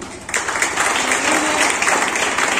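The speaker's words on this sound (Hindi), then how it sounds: "मैं तो एक बार जोरदार तालियों के साथ प्रभाकर जी का धन्यवाद दिलाना चाहती हूँ।" An audience at an International Women's Day gathering breaks into sustained applause after a short quieter start, the clapping dense and even, with a low hum running underneath.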